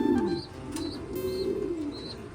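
Pigeons at a West Bengal pigeon farm coo in low, rolling, repeated calls close by, with a few faint higher chirps over a quiet background.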